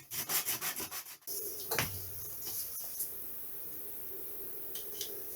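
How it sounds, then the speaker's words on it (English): Sandpaper rubs back and forth across laser-cut wooden parts of a 1/6 scale Tiger Moth model aircraft, a quick run of strokes followed by a steadier, quieter scraping, close up with no talk. "I'm just going to make sure everything's the same level. While I can sand it."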